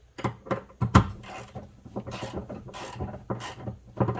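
A wrench working at the rear differential plug of a Honda Pilot EX-L makes close, uneven metallic clicks and ratcheting scrapes in short bursts, with a sharper knock near the first second.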